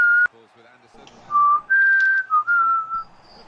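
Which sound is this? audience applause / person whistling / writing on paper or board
person whistling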